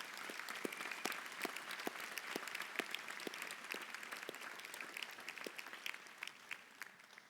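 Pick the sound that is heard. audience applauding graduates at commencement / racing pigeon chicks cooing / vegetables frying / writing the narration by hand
audience applauding graduates at commencement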